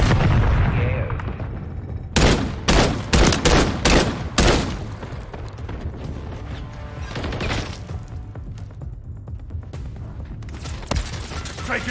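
Gunfire in Modern Warfare 3 team deathmatch on the Terminal map: a loud close burst of rapid shots, then scattered single cracks and mechanical weapon clicks over a rumbling game backdrop, with brief radio voice chatter.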